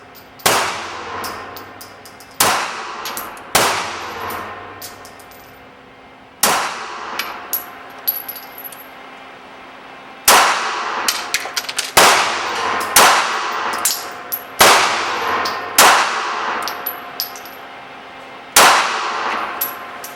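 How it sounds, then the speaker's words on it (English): A Beretta Pico pistol is fired in a string of sharp, loud shots, with some rapid pairs and trios and pauses between, each followed by a ringing metallic tail, up close. "Nice, it shoots good, very mild recoil"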